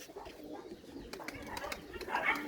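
Flying pigeon from a loft of racing pigeons, soft faint cooing close by with some low background noise.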